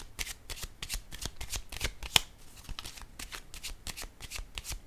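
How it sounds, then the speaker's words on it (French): Tarot cards are shuffled and drawn at close range, a steady run of quick papery riffles and slaps with one sharper snap partway through, with no talking. "je vais piger tout de suite une carte sur elle"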